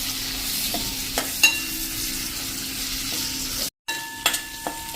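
Dried red chillies are stirred into oil for a sweet-sour pickle, giving a continuous low sizzle with occasional scraping and clinks from a spoon against the pan. There is a brief cut to silence partway through.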